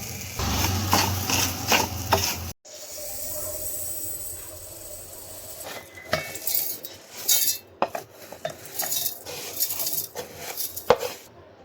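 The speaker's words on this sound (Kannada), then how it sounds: "ಇಲ್ಲಿ ಕಲ್ಲುಪ್ಪು ಕೂಡ ನಾವು ಹುರ್ಕೊಳ್ತಾ ಇದ್ದೀವಿ." Rock salt is dry-roasted in a pan for homemade mango pickle, giving scraping, clinking metal and gritty rattling in uneven bursts, with a brief pause partway through before the stirring resumes closer and louder.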